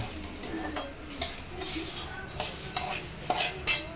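Coriander seeds dry-roast in a pan for a homemade masala and are stirred, giving light rattling and scraping strokes with a few sharp metallic clicks over a faint hiss, close and fairly quiet.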